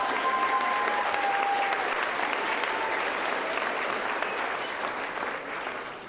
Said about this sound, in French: Je pense qu'elle mérite vraiment une main d'applaudissement.